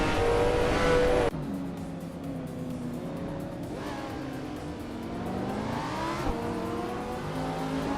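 A 2018 Ferrari F8 Tributo in a racing video game launches off the line, engine note climbing through gear changes, loud and steady with a brief shift dip early on.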